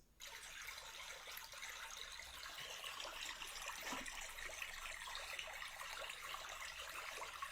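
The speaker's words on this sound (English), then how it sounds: "So that's the little stream sound." Steady, gentle running water, like a small stream trickling continuously on its own with a soft, bright splashing texture throughout.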